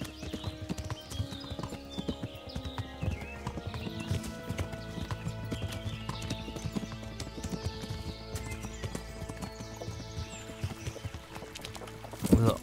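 Rapid, steady hoofbeats of a galloping horse in the video game Kingdom Come: Deliverance continue throughout, with a short whinny near the end.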